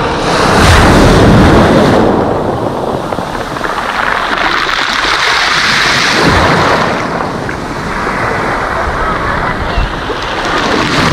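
Sea waves break and wash on a beach at Lazarevskoye on a fresh August morning, a steady broadband surf roar with wind buffeting the microphone, swelling and easing over several seconds.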